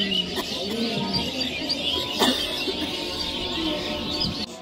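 Birds call and a pigeon coos amid steady outdoor ambience on a boat trip, with soft repeated chirps and low coos drifting over a constant background hum.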